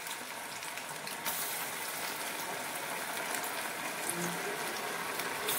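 Chana dal bora, fritters of chana dal soaked for four hours, deep frying in a pot of oil: a steady, close, fairly quiet sizzling hiss that runs throughout with no talk over it.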